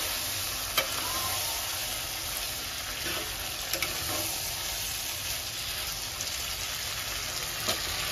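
Cumin seeds sizzle and crackle in a hot pan of spice masala while chole for tikki is cooked, a steady close frying hiss broken by small pops and occasional stirring, with no talk.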